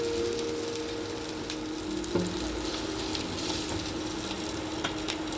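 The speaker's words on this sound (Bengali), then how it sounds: "আদা আর রসুন একটুখানির জন্য আমি ভেজে নেব" Ginger and garlic fry in a pan, giving a steady close sizzle with occasional stirring scrapes, no talking.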